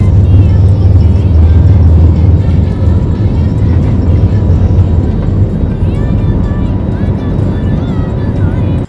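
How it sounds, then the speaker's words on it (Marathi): A passenger airplane takes off on a Delhi trip, its engines roaring loud and steady from inside the cabin with a deep rumble, while a voice talks over it. "त्यानंतर विमानाने टेक ऑफ घेतला"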